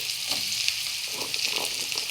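Steady close hiss and sizzle of carrot and pumpkin frying in a hot pan for a simple mixed vegetable dish, with faint stirring scrapes through the crackle.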